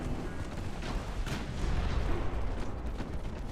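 Torpedo detonation in Ultimate Admiral: Dreadnoughts, a rolling deep booming rumble of naval explosions with a few sharper blasts, swelling in the middle and fading slightly, no voices.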